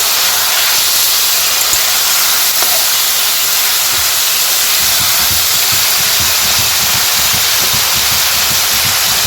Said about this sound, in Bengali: তো এদিকে এই যে এখন রান্না করছি আমি